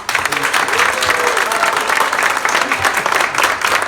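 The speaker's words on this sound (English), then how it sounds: "Can I have a big round of applause?" Applause breaks out at an Only Fools and Horses fan convention, a crowd clapping loudly and steadily for television legends, with a few voices and cheers mixed into it.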